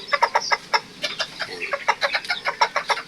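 Serama bantam chickens cluck and chatter close by in a quick series of sharp, irregular calls, fairly loud, with no speech over them.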